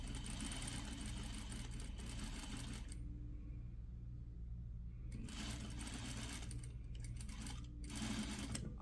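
A sewing machine stitches a slash pocket seam with a fast, steady, close mechanical hum, backstitching at the ends. It stops for about two seconds midway, then runs again.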